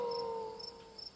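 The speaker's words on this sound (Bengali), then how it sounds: "ঘন জঙ্গল থেকে এক পাল শেয়াল ডেকে উঠছে।" A pack of jackals howls from dense forest at night: long, sustained, wavering cries, moderately faint and distant, layered over a steady chorus of crickets.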